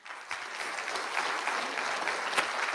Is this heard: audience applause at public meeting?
yes